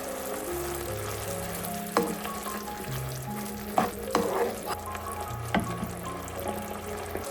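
Sambal with palm sugar sautés in a pan over medium heat, a steady close sizzle with occasional scraping stirs and clinks, and no talking.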